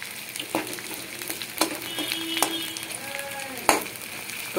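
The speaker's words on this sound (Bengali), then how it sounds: "পেঁয়াজগুলো একটুখানি ব্রাউন করে ভেজে নেব" Chopped onions fry in a pan for rui fish kalia, a soft steady sizzle broken by occasional clinks and scrapes of stirring.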